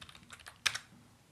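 Fast keystrokes on a computer keyboard while launching a notebook server from a terminal, a quiet run of light clicks closing with two sharper, louder taps near the end.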